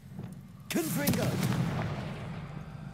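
Confringo fire spell from the Hogwarts Legacy video game, bursting abruptly about two-thirds of a second in and trailing off into a sustained rumbling roar, with a short voice sounding over the blast.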